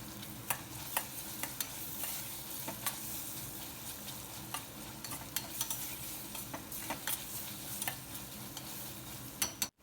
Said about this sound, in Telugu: ఒక హాఫ్ స్పూన్ అల్లం వెల్లుల్లిపాయ పేస్ట్ కూడా వేసుకొని బాగా కలుపుకుందాము